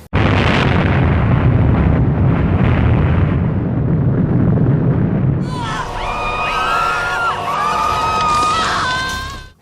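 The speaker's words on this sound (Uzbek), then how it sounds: "Demak, bu Rossiyada shoh bombasi." Tsar Bomba nuclear explosion test in Russia, a loud sustained roaring rumble that fills the first half, then gives way to a tonal, whistling overlay before cutting off abruptly.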